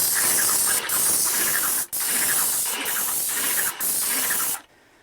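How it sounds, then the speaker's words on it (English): A paint sprayer spraying wood stain onto a shed hisses loudly and steadily in long bursts, with brief pauses between passes, before cutting off at the end. "Then I just have to move the paint sprayer and my stain"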